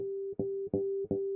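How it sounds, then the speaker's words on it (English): Three ringing guitar harmonic tones, each freshly plucked with a soft attack and sustaining until the next, evenly spaced, clean and close. "you can strike something that's called a harmonic, which sounds like this."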